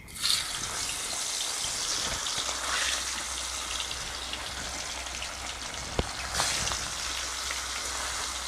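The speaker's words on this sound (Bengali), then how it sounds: "তেলটা গরম হয়ে গেছে মাছটা দিয়ে দিচ্ছি" A fish slides into hot oil and fries with a steady, rain-like hiss, a close sizzle that runs throughout with a few sharp spits and pops, and no voices.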